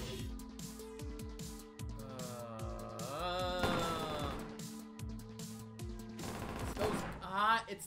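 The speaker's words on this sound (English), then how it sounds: "The machine gun guys ruin everything." Machine gun fire rattles in bursts through a firefight in the RONIN video game, with dense repeated shots and crashes over game music, while a voice talks over the action.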